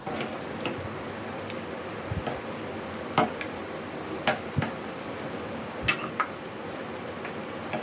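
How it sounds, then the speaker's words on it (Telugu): A homemade sweet frying in oil in a pan on a medium flame, a steady broadband sizzle with a few sharp pops and ticks of stirring scattered through, with no voices. "మంచి బంగారు వర్ణం వచ్చేంత వరకు ఫ్రై చేసుకుందాం."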